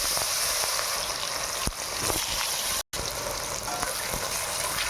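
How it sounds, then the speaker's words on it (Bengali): Chopped onions fry in oil in a kadai, a steady close sizzle running throughout with faint stirring scrapes and one brief dropout midway. "পেঁয়াজটাকে লাল লাল করে ভেজে নেব"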